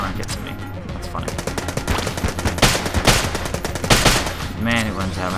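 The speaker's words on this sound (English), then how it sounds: "it's a rapid firing weapon" Rapid automatic gunfire from a weapon in the twin-stick shooter Enter the Gungeon, dense bursts of quick shots rattling continuously with game effects layered in, loud and steady throughout.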